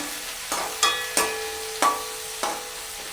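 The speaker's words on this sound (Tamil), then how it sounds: "வெங்காயம் அப்படியே வதக்கிடுவோம்" Onions sautéed in oil with fennel seeds, with a spatula striking and scraping the pan about six times at a regular pace over a soft sizzle, close and clear with no voices.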